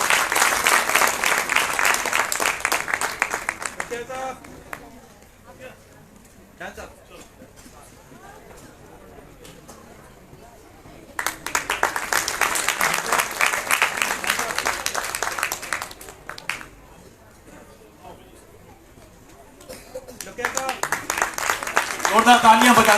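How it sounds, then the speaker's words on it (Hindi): An audience at a science festival in Uttarakhand breaks into loud applause in three bursts, with quieter gaps between them where a voice speaks over murmuring. "जोरदार तालियां बजाते रहे"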